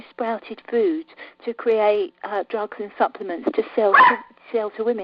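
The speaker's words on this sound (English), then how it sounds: "that's my dog in the background" A dog barks and yips briefly in the background of a home while a person keeps talking steadily over it.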